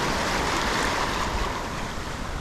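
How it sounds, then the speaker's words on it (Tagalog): Choppy sea slaps and washes steadily around a small boat during solo fishing off La Union in the Philippines, close and continuous, mixed with wind rushing over the microphone. "Maalon-alon na dito banda."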